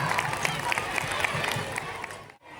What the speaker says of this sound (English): Let's give a big round of applause to our talented primary students for their brilliant performance.